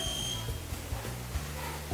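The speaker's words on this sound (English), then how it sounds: "Oh, it alarms. So it means there's a pin inside the dress, so we have to pull it back and check." A detector alarm goes off for a pin hidden inside a dress: a steady, high electronic beep tone that fades within about a second over a low room hum.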